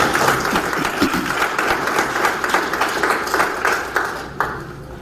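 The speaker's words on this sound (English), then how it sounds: "give the staff of this ministry a round of applause" Sustained applause from a large crowd at a Kenyan sports ministry meeting, steady dense clapping that carries on for the whole stretch without any voices rising above it.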